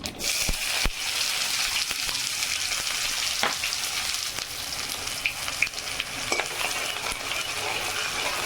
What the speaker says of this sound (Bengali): এবার পেঁয়াজগুলোকে একটু সময় ভাজবো।